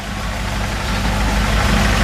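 A car engine idles during an exhaust back-pressure test in a shop, with a steady, loud, low rumble that holds constant throughout.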